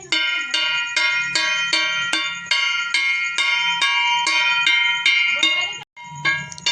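Bells ring in a steady, rapid rhythm as traditional music at a Jitashtami puja, close and bright, with a low drum thumping beneath and a short break near the end.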